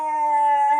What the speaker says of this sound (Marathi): इथं पण एक कुत्रा आहे बघा, गारोच करता आमच्यावर